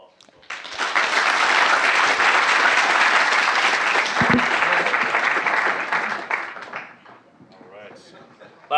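A big round of audience applause at a cleantech university pitch competition final: dense clapping swells up quickly, holds loud and steady for several seconds, then fades out.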